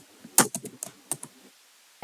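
Quick bursts of keystrokes on a computer keyboard while PHP code is entered, a cluster of close clicks followed by a pause and one final loud tap, with no voice.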